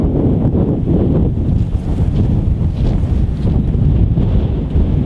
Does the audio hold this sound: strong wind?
yes